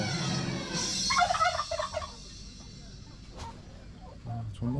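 A turkey gobbles in a short, loud burst near a cable car route on the way to Darjeeling, followed by quieter outdoor background noise and a couple of sharp clicks.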